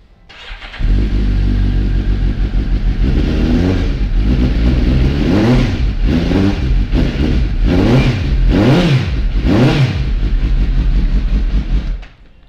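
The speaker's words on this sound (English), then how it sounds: "I'll give it a fire up so you can have a listen to that exhaust." A 2012 Suzuki GSR750 motorcycle engine fires up and settles into a loud idle, then is blipped through several sharp revs on its exhaust before shutting off, close and alone.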